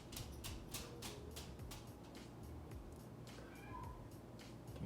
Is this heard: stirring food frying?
no